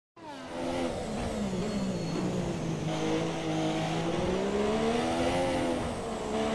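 Formula 1 cars race around Monaco in F1 2017, engines whining loudly at high pitch and holding steady across the whole stretch, with the note rising and falling slightly as the cars pass.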